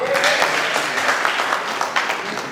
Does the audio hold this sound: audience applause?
yes